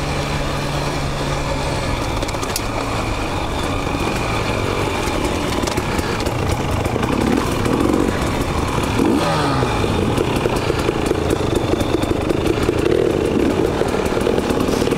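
A tight group of dirt bikes riding a trail on good dirt, their engines droning and revving loudly and continuously up close, with clattering over rough ground and no talk.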